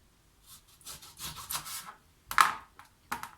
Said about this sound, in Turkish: Bunun için ilk olarak limonumu kesiyorum.